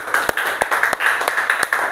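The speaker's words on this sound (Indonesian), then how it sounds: "Tepuk tangan untuk kelompok 1 dulu." Students in a classroom clap for a group that has just finished presenting. The claps come as a run of sharp, uneven hits at close range, with a steady murmur of the room underneath.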